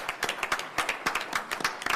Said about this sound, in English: can we give every one of our colleagues just one more round of applause?